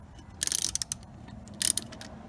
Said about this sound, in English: I'm going to use a 14mm with an extension to get off these 4 bolts.